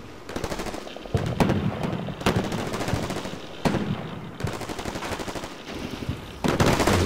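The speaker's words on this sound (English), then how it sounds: "MGL 140s are great, they're suppressing the enemy bunker." MGL 140 grenade launchers in a Marines combat video game fire sustained, loud rapid bursts, with sharp individual reports punctuating continuous gunfire from start to finish.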